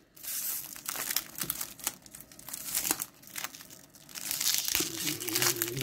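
Cellophane wrapper of a 1989 Fleer baseball card cello pack being torn and crinkled open, a close, steady crackling rustle that builds toward the end, with no talking.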